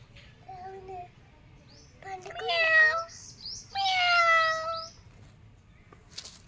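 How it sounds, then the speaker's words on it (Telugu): A cat outdoors by garden plants gives several short, nasal meows in separate bursts, fairly close, with quiet background noise between them. "ఏదే పిల్లి"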